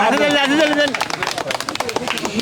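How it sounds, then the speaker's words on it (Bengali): A small group claps hands in a short burst of applause, coming right after a voice and with a hint of crowd chatter. "চাচার জন্য একটা হাতে তালি হয়ে যাক"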